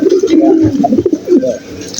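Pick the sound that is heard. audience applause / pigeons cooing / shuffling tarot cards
pigeons cooing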